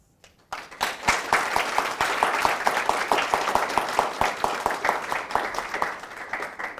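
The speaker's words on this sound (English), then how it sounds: "So I want to give another round of applause to all the interns and all the hard work that they've done this past 10 weeks." Audience applause for the interns at a physics intern symposium, a dense, steady burst of many hands clapping that starts abruptly and continues loudly throughout.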